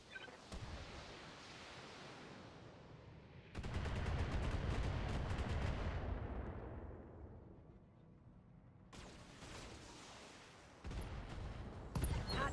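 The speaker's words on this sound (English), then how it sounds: "Line him up and I'll shoot him down" Heavy weapons fire in the mech combat video game BattleTech, with long roaring bursts of gunfire and explosive blasts in several loud waves, rapid crackling volleys between them and no voices.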